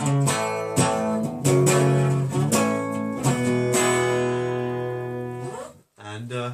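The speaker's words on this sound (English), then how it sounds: "yeah, basically it's the Joe Trohman guitar" Unmodded Joe Trohman signature electric guitar played up close, ringing chords strummed in a loose rhythm and left to sustain and fade before one more chord, loud and alone.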